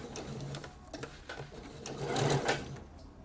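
A sewing machine sews a sleeve into a blouse with a continuous close mechanical whir and rhythmic needle clatter, growing slightly louder toward the end.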